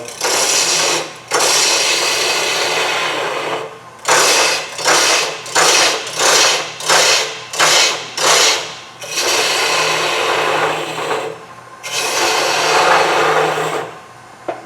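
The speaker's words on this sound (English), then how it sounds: "So now it's a matter of just thinning the spindle down, doing the things. There I will go to my 60-degree gouge." A 60-degree gouge cutting a natural edge goblet spindle on a wood lathe gives a loud, close, raspy shearing hiss, with long passes broken up by a run of short, rhythmic cuts.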